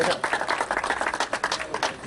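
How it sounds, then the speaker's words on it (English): Crowd at a carp fishing championship weigh-in clapping for an angler, a short burst of rapid, dense handclaps with some voices mixed in. "You got to get your clap on the way off."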